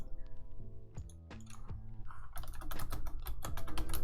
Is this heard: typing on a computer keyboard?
yes